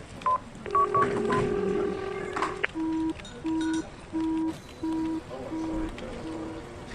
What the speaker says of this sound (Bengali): একটা নাম্বারে বেশ কয়েকবার ফোন লাগালো সুবল